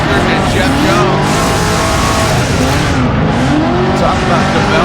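Tires on a Nissan 370Z drift car prepared by Evil Autoworks squeal continuously at a Formula Drift round in Orlando, loud and close, with the engine roaring underneath throughout.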